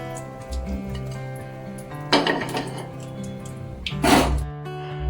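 Fried pointed gourds being lifted into a pot: a couple of bright metallic clinks and scrapes of utensils against cookware over a low background hum.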